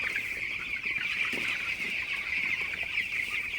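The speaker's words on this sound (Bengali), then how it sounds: "তো আপনারা দেখতে পাচ্ছেন আমার ব্রয়লার মুরগিগুলো মার্শাল্লাহ খুবই ভালো আছে সুস্থ আছে" A flock of broiler chickens clucks and chirps continuously at night, a dense overlapping chorus close by, with no one speaking.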